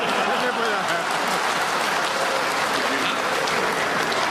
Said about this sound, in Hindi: ताली बजा करके मुंडेक सिंह ने मेरी बात का समर्थन किया,